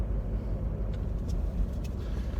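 A diesel car cruises along quiet back roads, its steady low engine and tyre rumble continuous and close, as if heard from inside the cabin.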